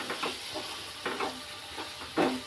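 Chili powder being stirred into hot oil for an egg tomato curry, a spoon scraping the pan in a few separate strokes over a soft, steady sizzle, close and fairly quiet.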